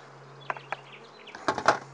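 Honey bees buzz around a hive feeder, a low drone with a few close bursts of wingbeats and some light knocks near the end.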